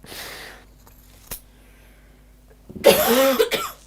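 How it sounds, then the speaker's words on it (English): One harsh, close cough bursts out near the end after a quiet stretch with a faint tap and a soft breath. "when did you start coughing?"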